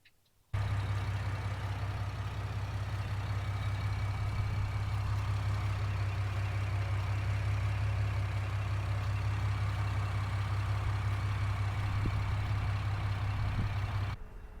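A fifth-generation Chevrolet Camaro V6 fitted with an intake manifold spacer fires up and settles into a steady, low droning idle that holds evenly for over ten seconds, close and alone, then cuts off.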